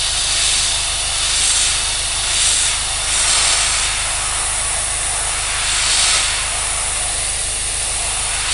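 Airbrush spraying paint onto a 1/48 scale model at high air pressure, a loud, steady, close hiss of air that holds continuously with slight swells in intensity.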